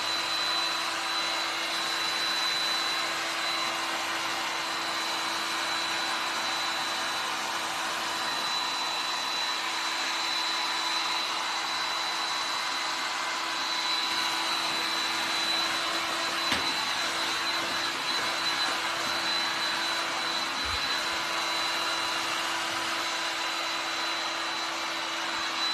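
A hair dryer runs continuously, drying paint on a painted craft statue, a loud steady whirring blow with a constant whine that holds for the whole stretch, close to the microphone.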